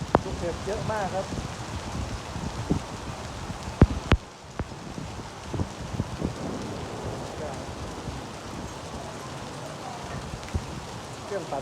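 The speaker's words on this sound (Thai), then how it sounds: "ลูกเห็บเยอะมากครับ" A heavy hailstorm outside a hospital in Kham Cha-i, Mukdahan, with hailstones pelting the ground in a thick continuous clatter marked by scattered loud impacts, and people talking through it.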